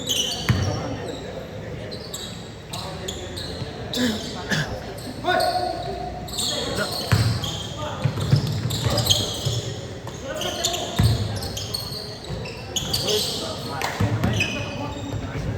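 Basketball bouncing on a court during a pickup game, repeated sharp thuds at an irregular pace, mixed with people talking and calling out nearby.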